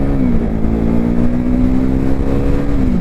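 A first-generation KTM Duke 390 single-cylinder motorcycle accelerating hard, its loud steady engine drone rising slightly in pitch and holding close and continuous for the full three seconds with no talk.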